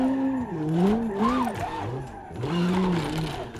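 Car drifting in the driving simulator BeamNG.drive, tires squealing in long wavering pitch-bending whines over engine noise, two sustained slides close by, no talking.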